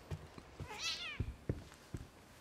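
A cat in the video game The Medium gives a single clear, rising-and-falling meow, surrounded by soft footsteps and quiet thuds.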